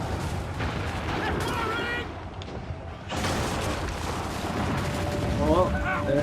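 Cannon fire from a battle in Assassin's Creed 3, booming steadily and loudly through the scene with dense rumbling blasts and battle noise, while voices and chatter sound beneath it.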